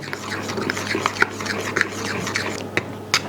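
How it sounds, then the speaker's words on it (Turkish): Yogurt batter for Osmaniye-style kömbe being stirred in a bowl, a steady close wet scraping and swishing with soft utensil knocks against the bowl, continuous throughout. "Ve tekrar karıştırmaya devam."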